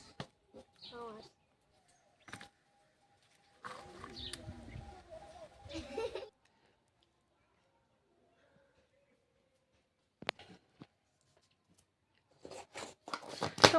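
Someone eats biscuits, making short, sharp crunching bites in scattered bursts separated by quiet gaps, with people talking in between.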